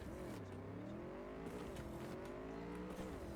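A motorcycle in Cyberpunk 2077 drones with a steady engine note that rises and dips slightly as it rides, continuous and fairly quiet.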